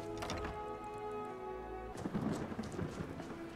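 Steady rain hiss with a low rumbling thunder roll through a Skyrim thunderstorm, joined by a few closer thuds and crackles in the second half, no voices.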